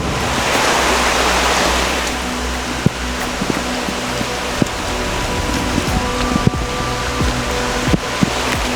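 A vehicle on a snow trip fords a flowing river, with a loud, steady rush of churning water and occasional thumps and knocks as it pushes through the current.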